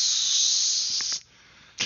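A person vocally imitates the hiss of an aerosol spray can, making one loud, steady hissing blast that lasts over a second and then cuts off, followed by a brief second hiss starting at the end.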